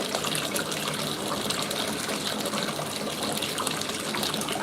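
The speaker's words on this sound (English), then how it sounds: "I'm just warming my water up because it got a little cold" Tap water pouring steadily into a bath, a continuous close hissing gush with no pauses or talk.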